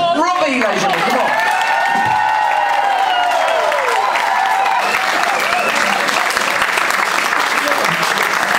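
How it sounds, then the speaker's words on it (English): An audience at a wedding breaks into loud, sustained applause for the drummer, with dense clapping and some cheering heard close, along with a voice over a microphone. "So give him a mega round of applause."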